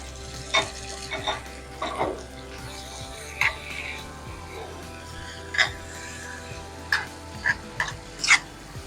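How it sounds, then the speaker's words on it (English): Spiced ground turkey seasoned with garlic salt is stirred in a pan, a soft ongoing sizzle punctuated by a handful of sharp scraping strokes, mostly alone with faint background hum. "Give this a stir"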